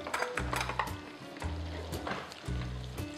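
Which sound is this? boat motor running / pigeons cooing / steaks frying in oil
steaks frying in oil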